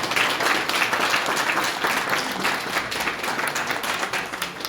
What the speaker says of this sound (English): Please clap hands.